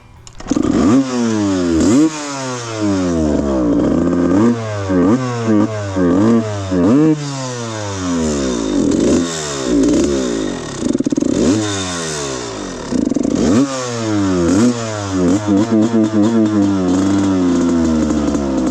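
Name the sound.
rebuilt Suzuki RM125 two-stroke dirt bike engine running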